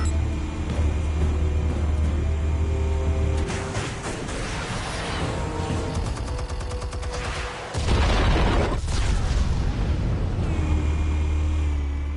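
Explosions go off in the Telltale Batman game, loud booming crashes with rumbling debris over a droning music bed, including a big blast about two-thirds of the way through.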